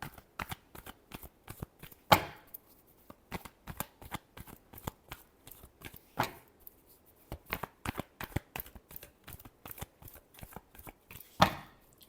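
Cards shuffled repeatedly during a tarot-style reading, a steady run of crisp riffling bursts with a few louder snaps, close and alone without talk.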